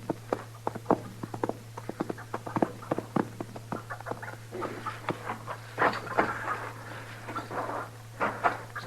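Horse hooves clip-clop in a steady, regular rhythm on hard ground outdoors, moderately close, with a constant low hum beneath.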